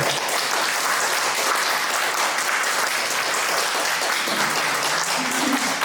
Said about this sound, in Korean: 앞으로 나오실 때 큰 박수 부탁드리겠습니다.